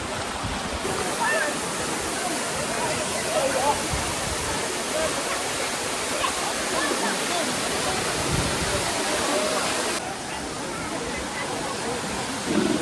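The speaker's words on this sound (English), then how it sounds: "That was the first waterfall." Steady, loud roar of a waterfall in the Ourika Valley of the High Atlas, a dense broadband rush of falling water that holds constant throughout, with no clear voices above it.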